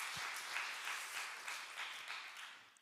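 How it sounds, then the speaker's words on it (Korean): Applause from a church youth worship congregation cheering off a team departing for Brazil, a dense steady wash of many hands clapping through the whole moment with no talk over it. "오늘 출국하시는 브라질 팀에게도 박수로 응원 드리겠습니다"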